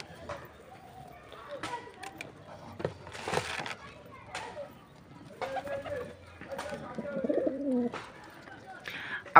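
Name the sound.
pigeons cooing while being fed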